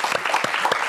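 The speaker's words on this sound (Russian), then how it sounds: "Аплодисменты вам" A live audience in Gomel claps during a music evening: a short, dense burst of applause with many hands at once.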